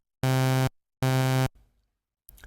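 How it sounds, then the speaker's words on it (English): Two synthesizer notes with the envelope attack at zero, each jumping instantly to full level, held for about half a second, then cut off, followed by faint noise, played alone. "You can hear that it jumps straight up to max level"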